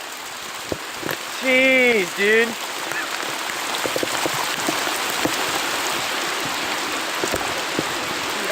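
Hail and heavy rain pour down during a storm on Long Lake while out bass fishing, a dense, steady hiss throughout, with a man's brief exclamation near the start.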